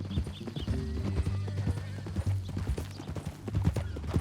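Horse hooves clip-clop in Red Dead Redemption 2, a quick uneven run of hoofbeats close by with a brief whinny, while voices talk over them.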